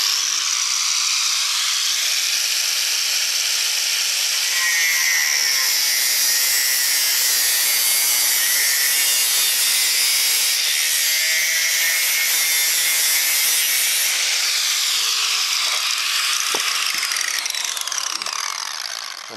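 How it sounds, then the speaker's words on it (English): An angle grinder cuts through steel for a fruit cage, a loud, continuous high-pitched grinding screech held steady for most of the span before a few clanks near the end. "The reason I'm doing it with the angle grinder, I don't want to distort this this piece here, but I'll now show you me cutting through here."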